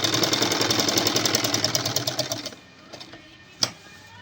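A sewing machine runs steadily at close range as it stitches a suit neckline, with a rapid even clatter for about two and a half seconds that then stops, followed by a few faint clicks and one sharp tap.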